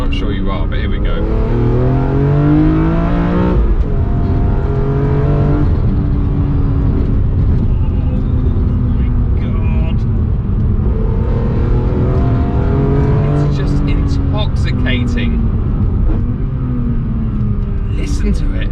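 A BMW E46 M3 CSL engine revs hard and loud through repeated rising sweeps as the car accelerates, with gear changes between pulls and a deep rumble throughout, close and dominant, while a person talks over it.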